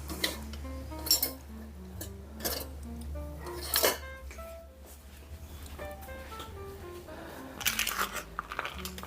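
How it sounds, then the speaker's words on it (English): A spoon stirs walnuts, sunflower seeds and cranberries together in a bowl, giving intermittent clinks and scrapes over steady background music. "So I'm just going to get a spoon and mix that around."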